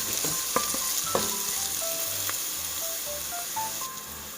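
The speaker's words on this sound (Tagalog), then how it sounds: "naggisa na naman po ng sibuyas at bawang para po ito sa paglulutuan ng mga nabalot" Onion and garlic hiss and crackle in a hot pan with a steady frying sizzle, broken by a few light clicks of a utensil stirring, close and alone without speech.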